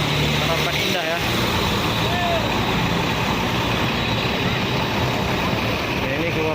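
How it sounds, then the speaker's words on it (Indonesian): An Armada Harapan Indah coach pulls out of Batoh bus terminal in Aceh, a loud continuous engine drone with a brief thump, a short hiss, and a tonal horn-like sweep over busy terminal noise, voices faintly mixed in. "Ini udah mau keluar satu unit bus Armada Harapan Indah ya."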